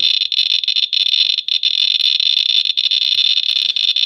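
An older radiation detector sounds a steady, shrill electronic alarm tone, continuous and loud with brief dips, close by and with no voices.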